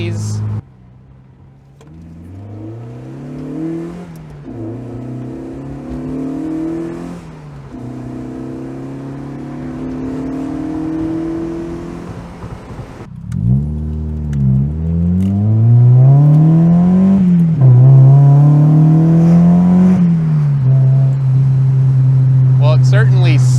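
Loud, close exhaust note from a 1990 Mazda Miata with a Manzo exhaust, climbing and falling through gear changes as it drives, with a brief lift-off before the engine surges back up and holds a strong drone.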